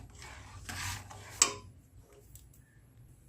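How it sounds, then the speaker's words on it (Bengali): Sugar being stirred into milk in a pot: quiet metallic spoon scrapes and clinks against the pot, a few short rubbing strokes with one sharper clink, then near silence. "অল্প করে চিনি দিচ্ছি আর মিশিয়ে নিচ্ছি"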